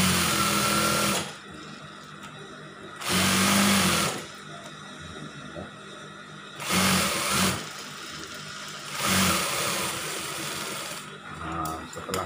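A sewing machine stitches a girls' scout uniform in short bursts of fast whirring, starting and stopping several times with quiet pauses between runs.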